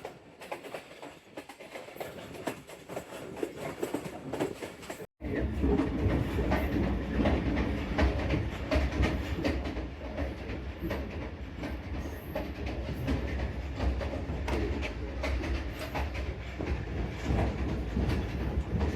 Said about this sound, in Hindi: पैसेंजर ट्रेन का मतलब ये होता है कि इसके तकरीबन तमाम स्टॉपेजेस होते हैं